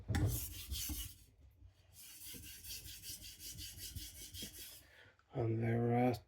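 Steel knife blade rubbed in long rasping strokes across a diamond sharpening plate, close and steady, with a brief pause midway and a louder tonal burst near the end.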